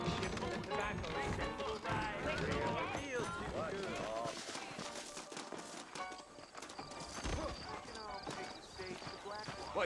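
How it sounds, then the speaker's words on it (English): Horses clip-clop along at a trot in the Red Dead Redemption video game, their hoofbeats mixed with a whinny, under a dense bed of speech and game sound. "I got the horses saddled up and ready out front."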